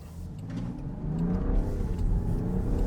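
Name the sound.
2025 Land Rover Defender 110 accelerating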